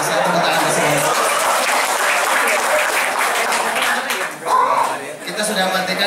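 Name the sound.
audience clapping hands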